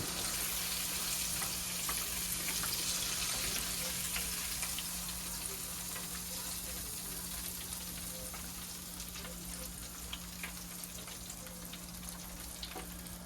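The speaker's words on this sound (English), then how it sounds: "So that's going to have to cook till it deep fries also." Southern-style roast deep-fries in a pan of oil, giving a continuous soft, even sizzle with tiny crackles throughout, fairly quiet and steady, with no voices over it.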